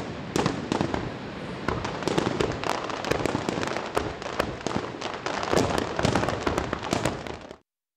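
Nighttime fireworks at Niagara Falls, a dense run of sharp crackling bursts and pops for several seconds, loud and continuous, then cutting off abruptly.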